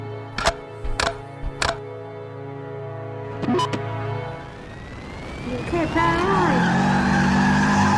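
Cartoon car tipped up and driving on two wheels, with a rising engine whine and screeching tires building into a sustained squeal after a few sharp bangs and clanks.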